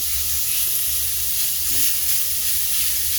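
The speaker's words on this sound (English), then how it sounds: "the pan's hot, so we're going to add the bacon. I'm going to let this bacon cook down" Bacon sizzling in a hot pan, a soft, steady hiss and crackle of frying that holds evenly throughout, heard close without talk.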